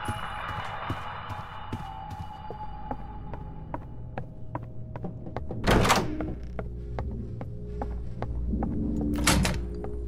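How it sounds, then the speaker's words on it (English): A door opening in the Roblox horror game Doors, with a dull thunk followed by a creaking sweep and a second, louder creaking swing later, all over a low ambient rumble and scattered ticks. "Door's open."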